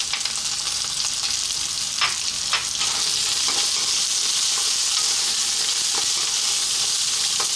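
Chopped garlic sizzles steadily in hot oil in a pan, a dense continuous frying hiss with a few brief stirring clicks, close and loud, no talking.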